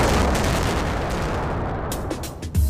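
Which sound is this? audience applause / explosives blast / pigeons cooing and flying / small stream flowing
explosives blast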